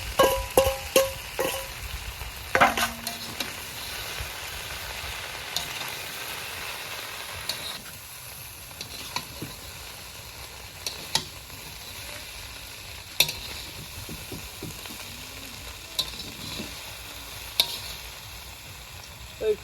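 Chowmein noodles stirred in a hot, sizzling pan at a street food stall: a constant frying hiss broken by frequent sharp scrapes and clinks of the utensil against the pan.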